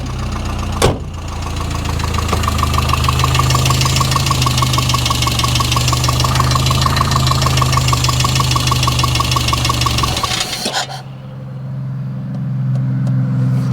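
Chevy Luv engine running rough as though starved of fuel, a loud steady knocking idle with an uneven pulse that sags and nearly dies near the end before catching again, close by.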